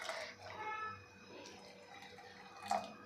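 Water is poured into pongli amti, a Maharashtrian curry, in a cooking pot. A faint, short splash and trickle sits in a quiet kitchen, with a brief louder slosh near the end.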